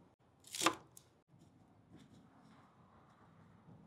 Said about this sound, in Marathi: पानांना आपण आता व्यवस्थित कट करून घेऊ। सर्वप्रथम यांच्या दांड्या काढून घेऊ।